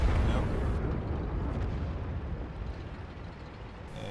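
A tank cannon blast in World of Tanks opens the clip as a loud, heavy boom, followed by a long rumbling decay that tails off over a few seconds.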